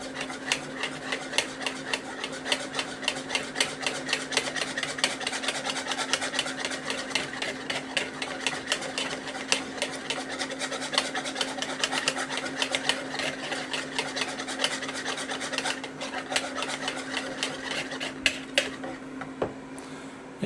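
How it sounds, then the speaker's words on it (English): Yorkshire pudding batter is beaten in a bowl with a fast, continuous whirring rhythm, close and steady for about twenty seconds, with no talking. "Mix it until creamy. Creamy? Oh, mix until it's no longer lumpy."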